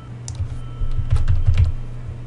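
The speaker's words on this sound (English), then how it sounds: "you can select that item and hit delete with your keyboard" Rapid keystrokes on a computer keyboard, a short burst of close, clicky taps in an office conference room setting, with no talking.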